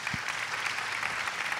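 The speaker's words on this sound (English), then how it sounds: "let's give applause." Audience applause at a university fireside chat on AI, a steady crackle of many hands clapping throughout, moderately loud and unbroken.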